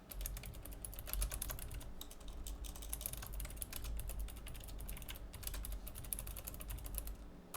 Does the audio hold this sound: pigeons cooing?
no